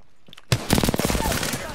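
Rapid automatic gunfire in the Apex Legends shooter game, a loud burst of closely spaced shots kicking in after a half-second lull and running steadily to the end.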